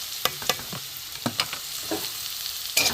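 Potatoes fry in a pan with ginger, red chilli powder, salt, cumin, coriander and turmeric, giving a soft sizzle broken by several sharp scraping stirs close by.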